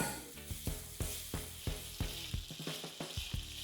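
Beef and broccoli being stirred in a hot pan: a loud, continuous sizzle with a run of close, rhythmic scraping strokes from the utensil, about two per second, and no voices.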